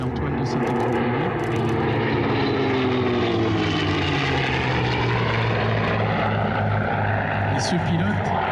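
Propeller warplanes, a P-38 Lightning, F4U Corsair and P-51 Mustang, roar past in a loud, continuous drone whose engine pitch slowly sweeps down as they pass, with commentary talk over it.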